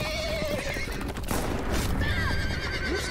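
A horse in The Walking Dead video game whinnies loudly with a rising, wavering cry after being shot, followed by a second shorter neigh, over steady background noise and clopping.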